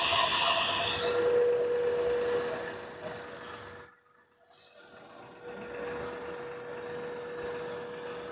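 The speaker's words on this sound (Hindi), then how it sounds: "सबसे पहले आपको कार में बाहर से नॉइज़ सुनाता हूँ कि बाहर से कितनी नॉइज़ आ रही है।" A one-year-old Tata Punch three-cylinder BS6 Phase 2 engine idles steadily up close outdoors, a constant buzzing hum that dips briefly partway through, then resumes.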